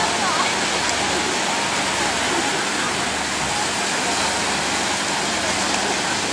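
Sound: stormy sea waves crashing

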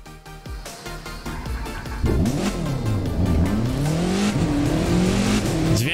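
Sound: Mitsubishi Lancer WRC 05 car engine revving, from video game The Crew 2

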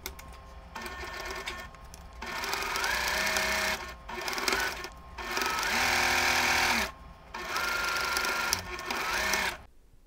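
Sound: sewing machine sewing stocking cuff to body

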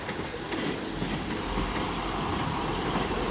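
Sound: Exeter train passing, newer livery

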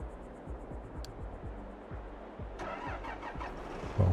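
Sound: combine harvester engine in Farming Simulator 22 video game

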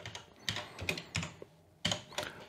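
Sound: typing text on a computer keyboard

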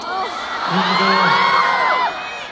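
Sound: concert crowd cheering and shouting

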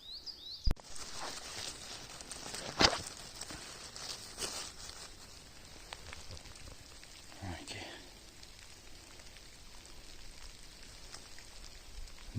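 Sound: light rain falling in Carpathian forest

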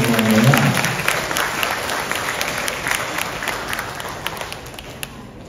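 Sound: audience applause at a temple ceremony

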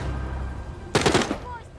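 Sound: automatic weapon gunfire in The Walking Dead: Saints & Sinners video game

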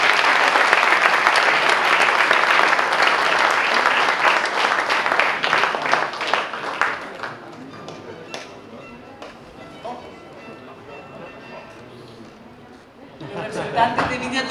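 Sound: audience applause at wine awards

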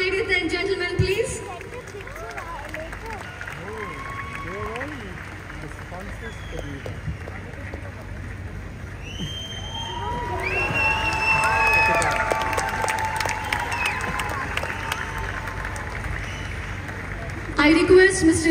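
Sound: concert audience applause and cheering

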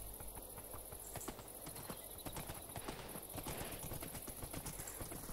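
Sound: horse hooves clip-clopping in the video game Minecraft

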